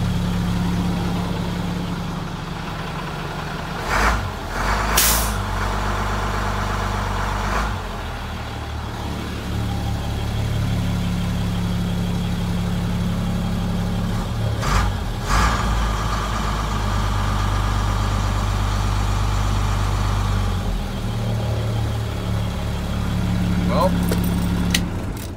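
A Navistar DT466 diesel truck engine idles with a deep, steady rumble throughout, broken by a few brief sharp clanks and bursts of louder noise.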